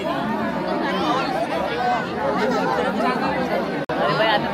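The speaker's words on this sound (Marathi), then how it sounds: "मागे पण किती गर्दी आहे." Dense crowd chatter fills a packed Ekvira temple, a steady wall of overlapping voices close around with no single speaker standing out, continuous throughout apart from one brief dropout near the end.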